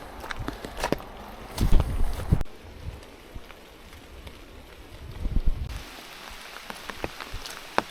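Rain patters on an umbrella along a forested hiking trail, a soft steady hiss broken by brushing rustles and a few louder bumps as the umbrella catches branches. No one speaks.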